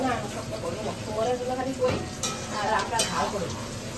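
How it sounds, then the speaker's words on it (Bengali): Battered pieces of belly-cut fish sizzle steadily in hot oil with a constant crackling hiss and occasional stirring clinks, while people talk over the frying. "পেটির মাছ কয়েকটা ভাজা হচ্ছে"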